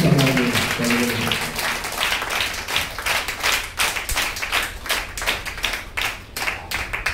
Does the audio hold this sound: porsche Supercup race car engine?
no